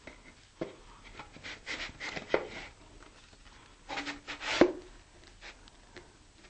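An avionics bay slid by hand into a rocket body tube gives faint, close scraping and rubbing noises in uneven bursts, with a few soft knocks and a brief squeak near the end.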